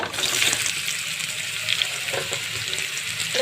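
Garlic cloves and chili frying in oil in a pan as raw mangoes go in for a pickle, a steady close hiss and sizzle with faint stirring, with no one talking.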